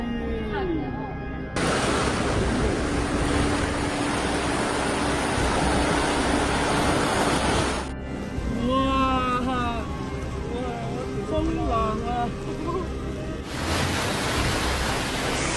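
Floodwaters rushing down a swollen river during heavy rains in China, where a tanker truck's detached tank drifted downstream and struck a bridge; a steady, loud broadband roar fills the scene, with voices and a music-like bed overlaid through the middle.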